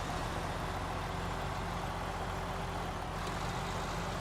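A heavy pull truck, an old Mack Pinnacle rigged with chains, idles with a steady low diesel rumble, close and constant throughout with no talking.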